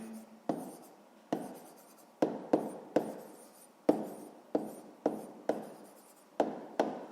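A pen writing on paper in a quiet room, with a steady series of short scratching strokes, each a crisp onset that fades quickly, close by and with no talking.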